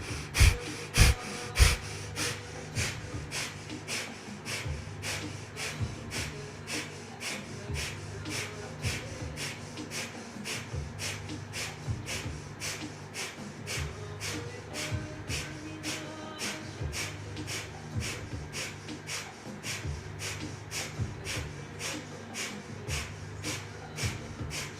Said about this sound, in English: Keep it going. Keep breathing.